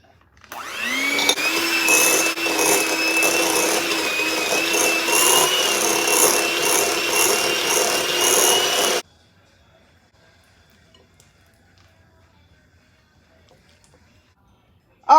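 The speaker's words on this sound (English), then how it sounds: "we're going to cream these on medium speed until they're fluffy" Electric mixer creaming two sticks of room-temperature unsalted butter on medium speed for strawberry cake, a steady loud motor whine with a rising start, running about nine seconds before cutting off to near silence.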